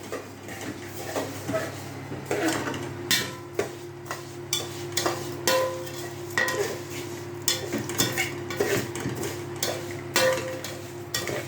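Stirring a yellow mixture in a pot while cooking, a spoon scraping and tapping in an irregular rhythm of close, clear clinks over a faint steady hum, with no talk.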